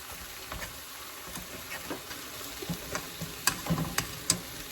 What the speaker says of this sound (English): Cook these onions up very good.